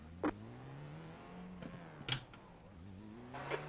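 Formula IR-04 open-wheel race car engine droning steadily with rising harmonic pitch as it accelerates, with a few brief sharp clicks over the continuous tone, in an iRacing simulation at Laguna Seca.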